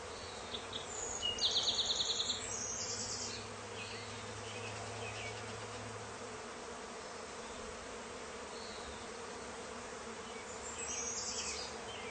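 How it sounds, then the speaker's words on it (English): A dense, continuous buzzing of a honeybee swarm around a bait box fills the air, steady and close, with a few louder passes from bees flying near and birds chirping faintly. "That thing has got to be packed with bees."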